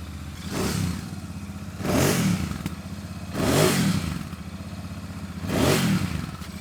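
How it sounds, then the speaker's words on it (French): A Royal Enfield Super Meteor motorcycle engine revved four times at a steady interval, each blip rising and falling over a loud, close idle, with no talking. "On peut peut-être écouter ensemble le bruit du moteur."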